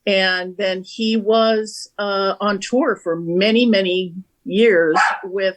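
A pet dog barks and yips a few times, mixed in with a person talking steadily nearby.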